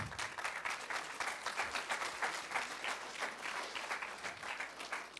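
An audience of students applauds a speaker, steady rhythmic clapping from many hands filling the room evenly for several seconds at moderate loudness, with no voices over it.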